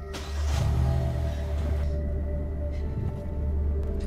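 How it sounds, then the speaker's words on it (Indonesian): A car drives away in a horror film, a heavy low engine rumble swelling in early and holding steady, with a faint whine on top and a muffled interior feel throughout. "Mereka berhasil kabur dengan membawa mobil."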